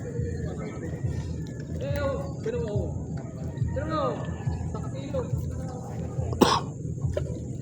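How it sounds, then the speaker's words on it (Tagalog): A few rough coughs and throat clearing stand out near the end, amid ongoing casual conversation and outdoor background noise. "Yung ubo mo ah"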